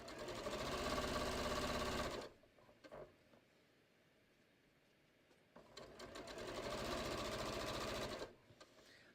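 A sewing machine runs along a strip of cushion cover fabric for a patio cushion, whirring steadily for two seconds, pausing through a quiet stretch, then running again for a longer steady burst before stopping.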